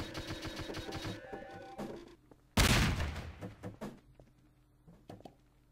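Melon bombs explode in the Garry's Mod game Melonbomber: a rapid series of sharp blasts with one loud burst in the middle, followed by scattered smaller pops, loud and close.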